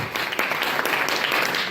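An audience at a seminar presenting the AWPL business plan claps for a speaker, producing a loud, dense burst of applause that lasts under two seconds.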